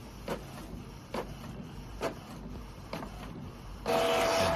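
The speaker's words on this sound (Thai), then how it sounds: "ให้เครื่องปิ้นตัวตรวจหัวฉีดออกมานะครับ" A Canon G4780 inkjet printer prints a nozzle check page: evenly spaced mechanical clunks from the print head, then a louder steady whirring feed near the end.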